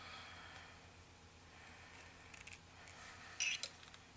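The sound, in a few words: cutting with wire cutters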